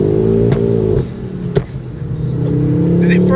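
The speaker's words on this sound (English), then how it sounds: "Surely that's decatted. There's no way is that a cat back exhaust." A decatted Ford Focus RS revs hard, its loud exhaust rising and falling in sharp bursts. A brief crack comes midway, then the engine note climbs again, close and dominant.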